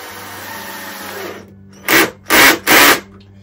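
A drill-driver drives a screw into wood while building shelf brackets, a brief whir followed by three short, loud motor bursts as the clutch slips with the screw head flush.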